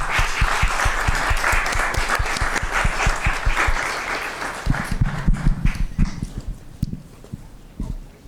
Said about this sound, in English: Please join me in giving a warm round of applause